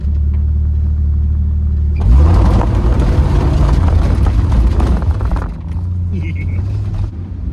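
A 1965 Dodge Dart convertible's Slant Six idles loudly up close, then revs hard into a sustained roaring burnout for several seconds before dropping back toward idle.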